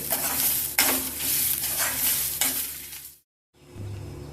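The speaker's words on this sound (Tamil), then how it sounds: "இதில் 2 ஸ்பூன் தேங்காய் எல்லாத்தையும் போட்டு வறுத்து விட்டு" Steady sizzling and scraping in a hot pan as grated coconut is stirred and roasted, with a brief silence near the end before frying resumes.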